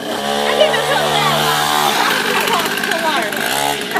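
A child's small motorbike engine drones and revs close by, its buzzing pitch rising as it accelerates. People talk and shout over it the whole time.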